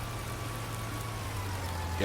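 Rain falls in the Farming Simulator 19 video game, a soft, steady hiss near a farm shed, with a low hum underneath and a slight rise in noise at the very end.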